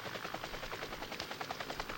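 Helicopter flying during an aerial pest-control campaign over remote breeding sites, a continuous loud rapid rotor chop with broad engine roar, steady throughout.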